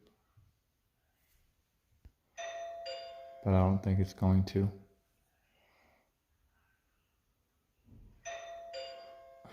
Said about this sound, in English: Okay, so this has 13 different doorbell sounds.